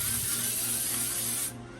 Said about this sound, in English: I'm going to spray my pan with some Baker's Joy.